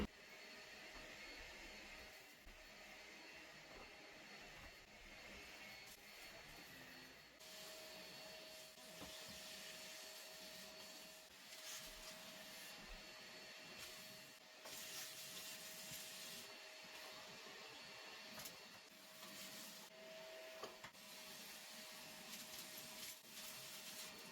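A vacuum cleaner drones continuously with a steady whine, fairly quiet, with faint rubbing and bumping as it moves across the floor of a cat feeding area.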